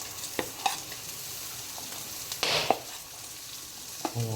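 Corn is tipped into a pan of sautéing onion and garlic for a misua dish, giving a soft steady sizzle under sharp spatula clicks and scrapes and a brief louder burst of frying.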